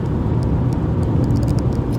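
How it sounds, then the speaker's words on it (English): A steady Honda Civic FN2 Type R engine hums close up with a low, breathy intake drone through a panel filter, faint clicks flickering above it. "I was very surprised about the noise that this panel filter actually makes"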